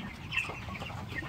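Poultry chickens on a small farm cluck softly and steadily at close range, with faint scattered calls over a low murmur of background noise.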